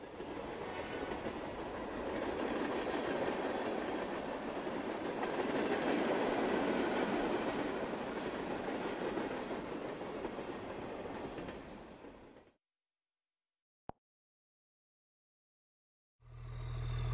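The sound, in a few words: train travelling on rails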